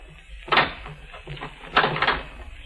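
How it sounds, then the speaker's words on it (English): In an old-time radio drama, a door is handled and locked, producing two close, distinct knocking clunks with a rattle between them over a faint background hum. "Lock the door."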